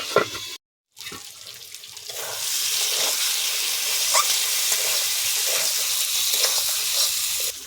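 Water pours into a pan of egg and potato curry and sets off a bright, steady hiss and sizzle close by. A short silence and a few soft clatters come before it.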